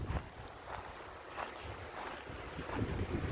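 Wind buffets the microphone in low rumbling gusts, with a faint outdoor hiss behind it and no voices.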